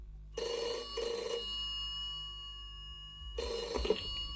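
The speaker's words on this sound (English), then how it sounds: "His boss, Mr. Thompson, answered the phone." An office telephone rings with two quick double trills, a pause, then another ring starting, loud and clear over a quiet background hum.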